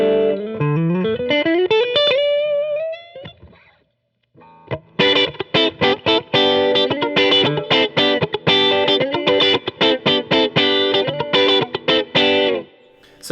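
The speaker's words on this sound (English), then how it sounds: "we've now got some compression happening here in parallel with the overdrive tone" An electric guitar runs through a Line 6 Helix with parallel compression and overdrive: a sliding, rising phrase first, a brief pause, then a run of quick, choppy, driven chords and notes, clear and solo.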